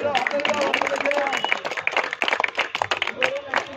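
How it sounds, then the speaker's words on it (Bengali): Audience clapping at an outdoor prize-giving ceremony at a local club's sports event, steady dense applause filling the whole stretch with a crowd murmur and voices mixed in. "জোরে হাততালি হবে"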